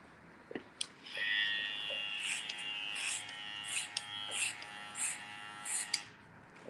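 Electric hair clippers cutting hair during a live barbering demonstration: after a couple of clicks, a close, high buzzing motor runs for about five seconds, its pitch wavering as it moves through the hair, with short bright snips on top.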